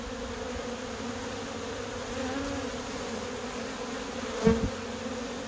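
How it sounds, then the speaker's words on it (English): A honey bee hive in Portland, Oregon, full of drones, gives off a constant, dense buzzing hum heard up close. It stays steady throughout, with a brief soft bump near the end and no talking. "Not sure how well the audio on my camera picks up the hum of the bees, but there's a big hum right now."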